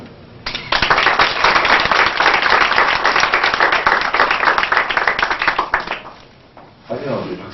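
A church congregation at a 1996 Korean Presbyterian-style installation service for deacons and deaconesses claps together in a loud, dense burst of applause lasting about six seconds, then stops abruptly, followed by a short murmur of voices.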